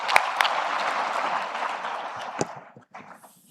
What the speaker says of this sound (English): Please, a round of applause for Ms. Zuera.